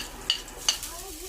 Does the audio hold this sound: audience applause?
no